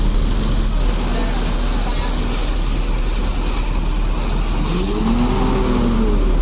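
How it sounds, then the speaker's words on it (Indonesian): A Gumarang Jaya bus pulls away from the KPR executive station, its engine a loud, steady low roar. A rising horn-like tone joins near the end, and a voice talks over part of it. "Gaspol kembali Gumarang Jaya, pertama meninggalkan KPR eksekutif"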